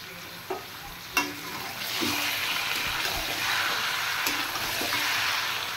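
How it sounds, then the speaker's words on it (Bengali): Chicken pieces and potatoes frying with onion in a pan, a steady close hiss of sizzling oil with a few sharp stirring knocks near the start, no talking. "এবার আমি একসাথে কেটে রাখা আলু দিয়ে মাংসটা একটু পেঁয়াজের সাথে কষিয়ে নেব।"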